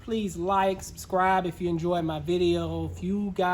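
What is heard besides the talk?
None of the usual background noises is heard.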